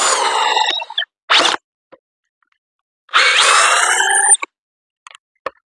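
A $99 Craftsman drill in twist bit mode whirs in short bursts: a roughly one-second run, a brief blip, then a longer spin that winds down, close and loud with silent gaps.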